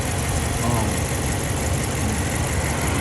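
Engine of a 2011–2023 rear-wheel-drive Dodge Charger or Challenger on coilovers set to full hard, droning at a low, steady pitch while the car is driven, mixed with road and cabin rumble.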